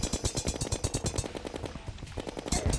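Rapid, steady bursts of gunfire from a gun shooting bullets in the Terraria video game, evenly spaced shots repeating loudly throughout with a brief lull near the middle.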